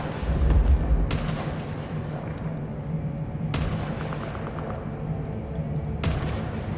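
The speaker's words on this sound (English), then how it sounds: "Nobody ever hears those gunshots, huh?" Gunfire in the video game Vampire: The Masquerade – Bloodlines 2, with a few sharp, loud cracks spaced seconds apart, each trailing off into a decaying echo over a rumbling game soundscape.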